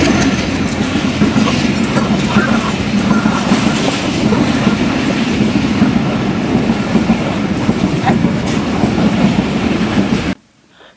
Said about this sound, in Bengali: আমাদের পিছনে কিন্তু ট্রেন আসছে